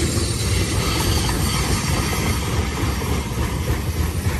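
Union Pacific eastbound freight train rolling through Cajon Pass at Blue Cut near milepost 65, a steady, loud, broadband rumble of wheels and cars that holds constant throughout without any voices.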